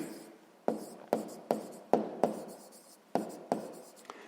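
Pen on paper while working a sixth-grade math exercise: a quiet series of sharp, separate strokes and taps, about eight in four seconds, with no talking.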